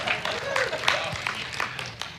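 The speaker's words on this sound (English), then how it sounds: "Let's give her a round of applause" Audience applause for a speaker at an abuse-prevention training session, a short burst of scattered clapping from a modest crowd, with a voice talking over it.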